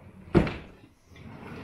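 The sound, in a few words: drawer opening and closing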